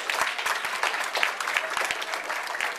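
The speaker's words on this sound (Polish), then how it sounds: "Wielkie brawa." Audience at a FIRST LEGO League robotics event applauding, a steady, crowded spread of clapping with scattered sharper claps standing out near the front, continuing evenly without talk.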